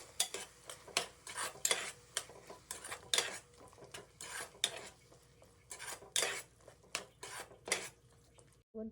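Ground masala fries in a pan and is stirred repeatedly for avarekalu bath, with a rhythmic run of close metal scrapes and clinks of a spoon against the pan over a faint sizzle.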